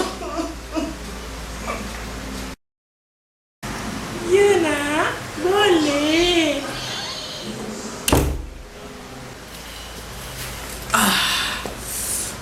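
A house door is shut with a sharp thud partway through, while voices talk and make vocal sounds before and after it.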